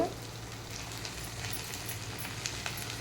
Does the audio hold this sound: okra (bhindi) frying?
yes